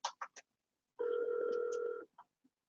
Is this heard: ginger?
no